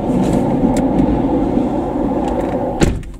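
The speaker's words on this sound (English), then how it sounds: "That's a train going across the bridge over the River Forth." A train rumbles steadily across the Forth Bridge over the River Forth, a continuous low roar heard from underneath and some distance away, with a few faint clicks and a brief knock near the end.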